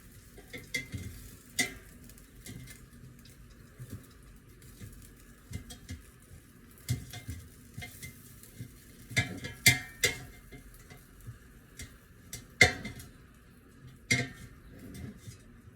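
Air-fried chicken wings being flipped in the basket, with scattered scrapes, clinks and light knocks of utensils against metal over a faint background hum, no voices.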